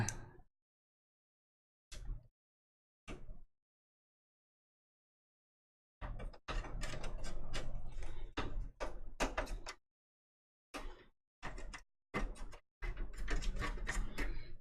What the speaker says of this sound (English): I'll try to put these screws back.